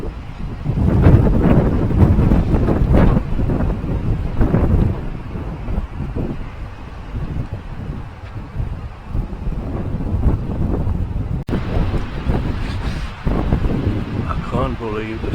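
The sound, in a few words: strong wind during a storm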